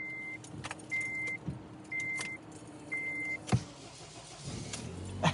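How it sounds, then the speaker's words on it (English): A 2008 Acura RDX gives four evenly spaced warning chimes inside the cabin, then the starter cranks and the engine catches near the end. "let's go ahead and start up the car"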